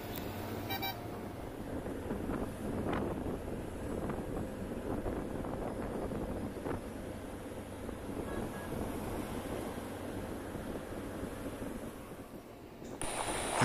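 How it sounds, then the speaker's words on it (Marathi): Wind rushing past the microphone while riding a Jupiter 125cc scooter on a road from Wai to Bhuinj, a continuous buffeting roar with the quiet engine barely audible beneath it. "बाकी वाऱ्याचा ह्याचा आवाज येतो आहे पण इंजिनचा आवाज खूप कमी आहे."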